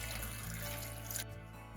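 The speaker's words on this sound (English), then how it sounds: "So I'm just going to add the water." Warm water pours steadily into a blender jar for a homemade detox drink, a close continuous trickle with a faint hum beneath that cuts off near the end.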